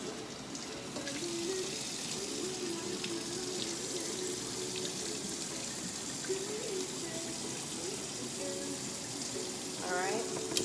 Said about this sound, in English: So now I have the beans. Gonna give this one more rinse.